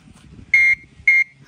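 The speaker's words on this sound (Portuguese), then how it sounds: "Deixa eu ver, buzina." Horn on a children's toy motorcycle gives two short electronic beeps, each a bright steady buzzing tone about a fifth of a second long, separated by a brief pause, loud and close over faint background rumble.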